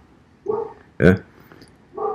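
A small pet dog yips and whimpers in short bursts between a man's speech, one louder sharp bark standing out in the middle.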